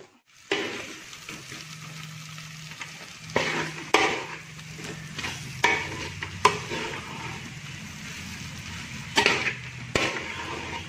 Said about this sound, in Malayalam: നമുക്ക് ഇനി ഒന്ന് നല്ലതായിട്ടൊന്ന് ഇളക്കി കൊടുക്കാം